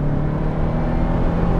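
A Mosler Consulier GTP accelerates, its engine droning loud and close with a steady rising hum and no speech over it.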